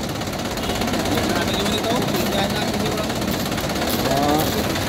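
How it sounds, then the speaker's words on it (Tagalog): An Isuzu 4BC2 diesel engine runs with heavy vibration, giving a loud, steady, rattling drone close by, with a person talking over it. "Kasi sobrang katal guys, sobrang katal ng kanyang makina"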